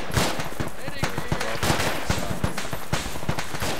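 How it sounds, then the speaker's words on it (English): Enemy gunfire in a military video game set in Sangin, rapid cracking shots and bursts peppering the scene at close to medium range while a voice speaks intermittently. "We're now taking accurate fire!"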